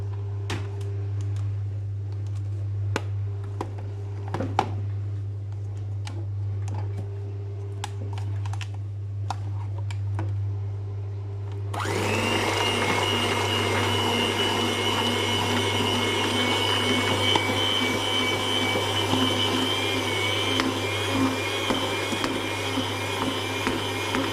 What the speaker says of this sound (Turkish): Şimdi mikserle çevireceğim arkadaşlar.